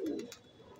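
A single short, soft coo from a pigeon perched on a ledge, faint and brief, with no voices.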